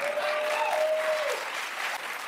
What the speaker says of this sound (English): Why are you clapping for this ignorant mess right here?